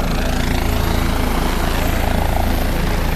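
A helicopter carrying passengers over a village in Rajasthan makes a loud, steady rotor and engine roar that fills the whole span, close and unbroken.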